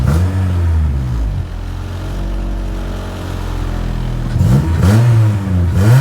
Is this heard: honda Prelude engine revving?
yes